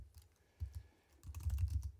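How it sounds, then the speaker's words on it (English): Typing on a computer keyboard, a near run of quick soft keystrokes in two bursts with a short pause between them, no voices. "What I'm typing is correct."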